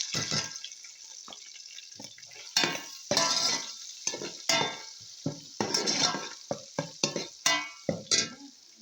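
Cooked chicken flakes are stir-fried in a pan with pancit noodles made from spaghetti and vermicelli, giving quiet scraping, clinking utensil strokes and soft sizzling bursts in an irregular rhythm, close by.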